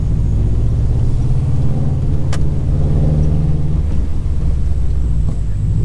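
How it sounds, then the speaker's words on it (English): A lifted Subaru on coilovers drives over bumpy gravel, giving a steady loud low rumble of road and suspension noise throughout, with a brief sharp knock partway through. "Gravel with bumps."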